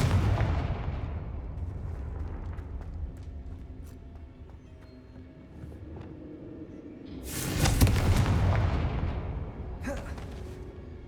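Confringo spell explosions in the Hogwarts Legacy video game: a heavy, booming blast opens, a rumbling tail fades, then a second loud fiery explosion erupts and trails off, with no talking.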